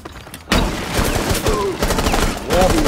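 Rapid gunfire from an online match of Rainbow Six Siege shot through windows, loud and close: a dense burst of repeated shots starts suddenly after a brief quiet and continues almost without pause, with a short lull before another burst.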